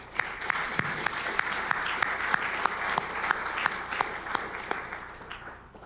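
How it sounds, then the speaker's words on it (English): Audience members at an international forum on Korea applaud steadily, with several sharp individual claps standing out from the even clapping and no one speaking. "Let's give them all a round of applause."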